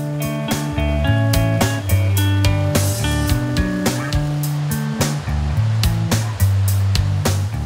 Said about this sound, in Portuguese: Depois de 9 quilômetros, chegamos na primeira cachoeira, conhecida como do Nenzico.